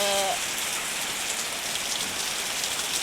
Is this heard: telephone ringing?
no